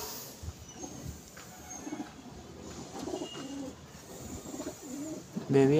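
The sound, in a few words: pigeon cooing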